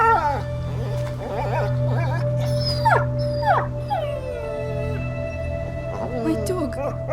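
A dog in the video game A Plague Tale: Innocence howls and whimpers in a string of rising and falling cries over a low ambient hum, fairly close and clear.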